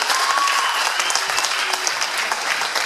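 Audience applause for a candidate at a 2018 Lake Worth city debate and forum, a full, continuous wash of clapping from a crowd in a hall, steady and loud throughout.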